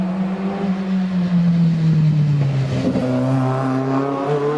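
A small go-kart with a tiny steering wheel drives at a hillclimb, its engine droning loudly, dropping in pitch and then rising again as it accelerates past, close and continuous.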